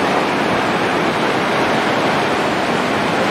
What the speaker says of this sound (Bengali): ভীষণ স্রোত